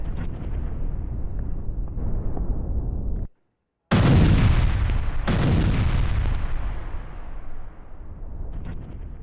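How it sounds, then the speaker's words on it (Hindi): Israeli air force bombardment in Lebanon, heavy rumbling blasts and continuous roaring explosions, loud and close, broken by a short silent gap before a powerful new boom. "किस तरह से देखिए बमबारी की जा रही है।"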